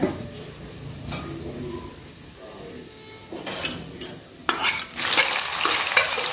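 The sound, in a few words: cumin seeds sizzling in hot oil for tempering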